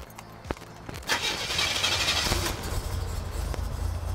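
A 1987 Buick Grand National running on E85 fires up: a brief starter crank and catch, then a steady, fairly loud idle rumble settles in and holds, with no talking.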